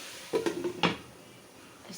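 A lid is set onto a cooking pan of frying pointed gourd and potato, making a quick pair of metallic clanks and a short rattle before quiet background hiss.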